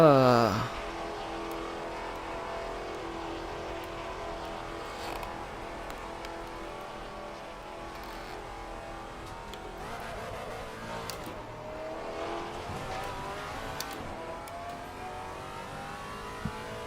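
Maserati GT race car in a racing video game at Silverstone, its engine rumbling steadily for the whole stretch, a continuous mid-pitched drone with slight rises and falls in revs, starting with a brief louder rev.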